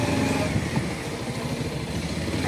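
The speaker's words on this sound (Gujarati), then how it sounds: "અને બાઇક ઉપર જઈએ છીએ." Motorcycle engine droning steadily and fairly loud throughout a ride to a house through open, forest-like country, with no talk over it.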